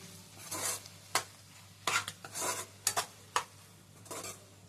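A spoon turns fried egg through ridge gourd curry in a pan, producing a series of short scraping, sizzling strokes in an uneven rhythm, close and clear over a quiet background with no talk.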